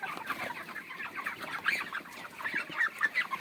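Broiler chickens about 36 days old, averaging around 2 kg, cluck and chatter continuously across a crowded farm shed. The sound is a dense, fairly quiet flock murmur with no talking.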